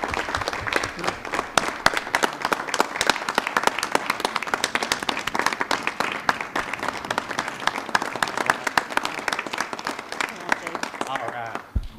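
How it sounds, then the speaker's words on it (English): An audience at a city council meeting breaks into steady applause, with individual claps standing out sharply in a dense, even patter that continues at moderate loudness before cutting off at the end. "Let's give them a big round of applause."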